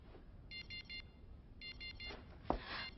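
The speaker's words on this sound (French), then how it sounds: "Votre téléphone sonne." A phone rings in an animated cartoon series, giving two short bursts of electronic trilling beeps, faint and thin, with a brief clunk near the end.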